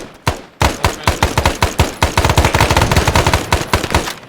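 Rapid automatic gunfire in the military shooter ArmA, loud and close, a long string of sharp shots in fast bursts with brief gaps and no talking.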